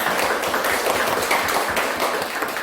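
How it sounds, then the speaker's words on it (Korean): Church congregation applauding during a Sunday worship service at a Baptist church, welcoming a newcomer; steady dense clapping fills the whole stretch at moderate level, with no voices over it. "우리 박수를 하나 해주세요"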